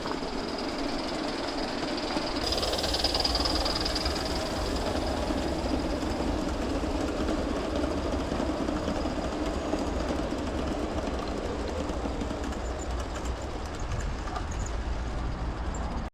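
A live steam model Mikado locomotive hauls a 16-car train plus caboose, giving a steady, close rumble of rolling wheels and rail clatter with a hissing edge, continuous throughout.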